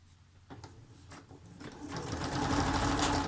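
A sewing machine double stitches upholstery fabric for a wine bottle gift bag, starting with a few slow separate stitches and then building into a fast, steady whirring run close by.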